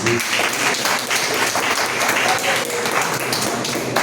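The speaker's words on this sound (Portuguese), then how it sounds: "As palmas do Senhor." A church congregation applauds together, a steady, dense burst of clapping filling the room with no voices over it.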